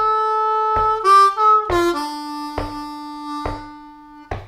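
A short blues harmonica lick on a C harmonica, several clear reedy notes, some sliding in pitch, with soft percussive taps marking a steady beat underneath.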